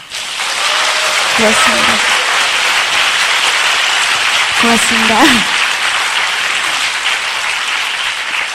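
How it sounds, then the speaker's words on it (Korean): Loud, continuous applause from a seated Amway event audience fills the hall, with a voice speaking briefly over the clapping twice. "사장님들이 박수 한번 쳐주세요"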